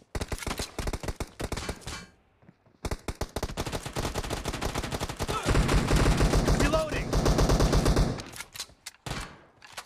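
Rapid bursts of automatic gunfire in a PUBG Mobile team deathmatch, crackling shots repeating in dense volleys with brief pauses between, loud and close, with game music and voices faintly underneath.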